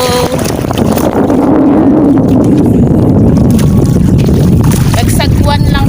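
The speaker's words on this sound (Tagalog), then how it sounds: "Nagsagwan lang kami kasi hindi mga ano ng makina" A rowboat paddled by hand at sea while setting crab traps, with steady wind and water noise throughout and people talking over it.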